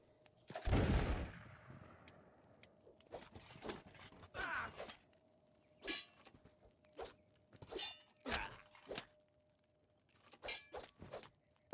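Gunfire in the video game Kenshi: one loud blast up front, followed by a run of short, sharp cracks and clinks spaced irregularly, with quiet gaps between them.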